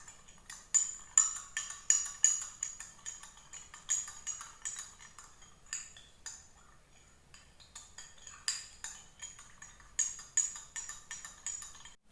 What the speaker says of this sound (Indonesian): Kita aduk sampai tercampur sempurna ya.